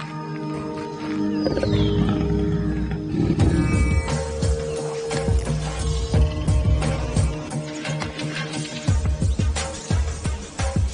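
Black panthers (melanistic leopards) call in the wild with rough, grunting roars and snarls. The calls are dense and continuous over a busy, noisy background, loud and close throughout.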